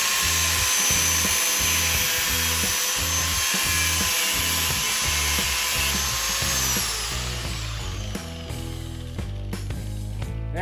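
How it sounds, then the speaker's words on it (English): Angle grinder slicing through the original plastic intake pipe of a Dodge Ram 5.7L Hemi: a loud, steady high whine with a grinding buzz that runs alone for about seven seconds, then shifts and loosens as the cut finishes. "I got the original pipe here, an angle grinder, great for cutting plastic."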